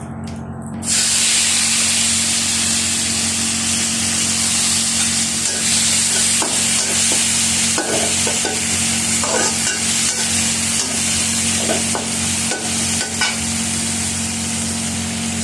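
Taro leaves fry in a pan alongside hilsa fish heads, giving a loud, steady hissing sizzle over a low hum, broken by occasional stirring clinks, with no talk.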